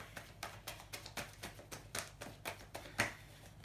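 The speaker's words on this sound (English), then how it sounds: "Just one final shuffle." Quiet, regular papery riffles and taps of tarot cards being shuffled, repeating roughly every half second with no voices.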